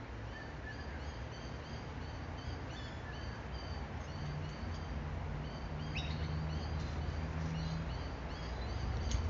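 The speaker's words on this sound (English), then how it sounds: "Corella's the type of bird, Sinister's saying." Corellas call across a broad, steady outdoor hiss, with harsh chirps and squawks that are faint and fairly distant. Noise builds slightly toward the end, and no one speaks.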